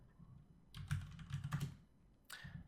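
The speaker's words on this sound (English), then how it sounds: "I'm going to type in bowel." Quiet typing on a computer keyboard in a hospital order-entry system, a few brief clusters of key clicks close by, alone with no talking.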